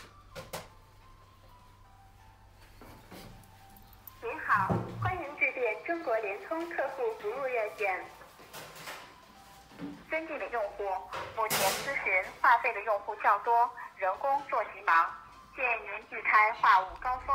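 A phone call to customer care on a Xiaomi Mi 6X places a connection, then a long run of automated menu tones and recorded prompts plays fairly loud.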